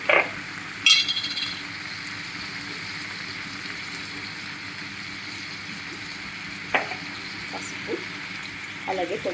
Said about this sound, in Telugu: ఇందులో పసుపు కూడా వేసుకొని ఫ్రై చేద్దామండి